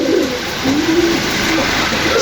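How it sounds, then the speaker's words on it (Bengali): A red checker racer pigeon coos close by in soft, low, rolling notes, repeated a few times over a faint background hiss. "এই কবুতরটির নাম হচ্ছে রেড চেকার রেসার কবুতর"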